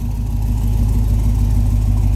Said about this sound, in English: Car starts easily.